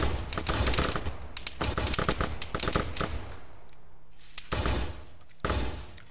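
Dense automatic gunfire in an Arma 3 firefight, rapid loud bursts and sustained volleys with a brief lull before more shots, close and continuous with no talk over it.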